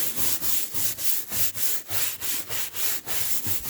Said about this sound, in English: Getting the back half of the starboard foredeck here. Some good scrubbing in.